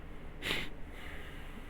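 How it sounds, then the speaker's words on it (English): A single short, sharp sniffle through the nose sounds close to the microphone midway through, otherwise quiet with faint background hiss and no talking. "sorry for all the sniffles."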